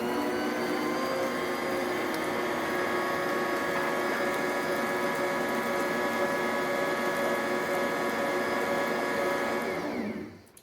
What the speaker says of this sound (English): you're going to mix that up in the mixer